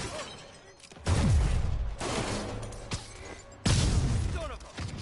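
Sniper gunfire in the video game Marvel's Spider-Man: loud, sharp shots ring out near the one-, two- and nearly four-second marks, each with a booming tail, over a dense game soundscape.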